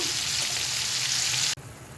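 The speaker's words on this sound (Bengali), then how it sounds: "কড়াইতে দিয়ে দিয়েছি সর্ষের তেল তেলটা গরম হয়ে গেছে হয়ে গেছে ভাজা এবারে তুলে নেব" Fish frying in hot mustard oil in a wok, a loud, steady hiss of sizzling oil filling the clip before it drops away sharply near the end.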